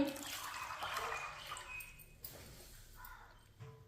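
Glasses of water pour into a cooking pot for rajma, a splashing, trickling rush that fades into scattered drips and small clinks, fairly quiet and close.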